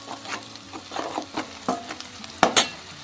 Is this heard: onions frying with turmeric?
yes